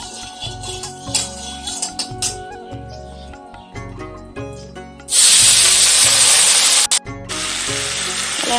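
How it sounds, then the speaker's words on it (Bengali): Potato pieces go into hot oil for frying. A loud, sudden burst of sizzling hiss rises over background music and then holds steady. "এখন আলু ভাজাটা বসিয়ে দেবো"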